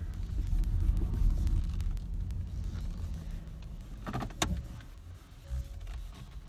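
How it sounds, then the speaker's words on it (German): An electric car reverses slowly into a carport with a low, steady rolling rumble of tyres and a faint motor, a short mechanical clunk partway through and quieter hum at the end. "Jetzt geht's rückwärts ins Carport."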